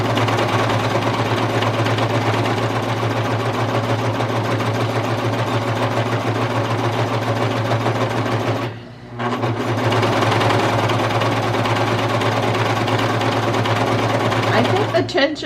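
A Brother Pacesetter cover stitch sewing machine runs steadily and loudly with a fast mechanical whir, stops briefly partway through, then starts again; a voice speaks over it.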